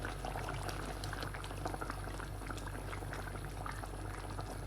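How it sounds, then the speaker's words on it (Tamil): Mango fish curry simmering in a pot as fish pieces go in: a continuous, fairly close bubbling and gentle liquid sloshing, steady throughout with no talking. "நல்லா கொடுத்து நல்லா மீன் ஆட் பண்ணுங்க."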